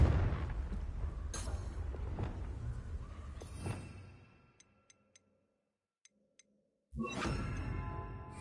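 A Confringo fire spell cast again and again in the Hogwarts Legacy video game: several whooshing blasts and impacts over a rumbling game backdrop, then a near-silent pause broken by a few small ticks, before another loud burst.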